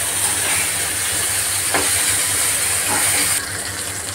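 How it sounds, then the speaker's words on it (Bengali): Okra (bhindi) frying in hot oil in a pan for a doi bhindi dish, giving a steady, loud sizzling hiss that holds throughout without a break, with no talking over it. "ভেন্ডিগুলো ভালো করে ভেজে নিচ্ছি।"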